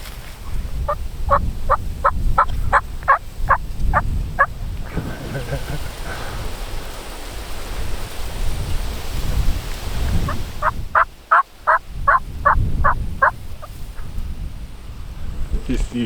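A turkey gobbles outdoors in two rapid rattling bursts, one early and one later, separated by a stretch of steady background noise that sounds like wind or rain.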